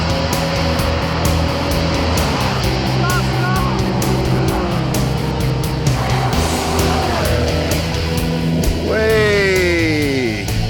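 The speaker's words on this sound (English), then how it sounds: "Okay, we're on the straight, accelerating down the circuit." A car accelerates down the straight of a very slippery race circuit. A loud, close engine drone holds steady, then climbs sharply in pitch near the end as it revs hard, with faint speech-like sounds mixed in.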